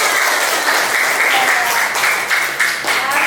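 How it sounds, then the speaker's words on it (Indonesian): Children in a classroom clap together in lively, steady applause that fills the room at close range from start to finish. "Tepuk tangan."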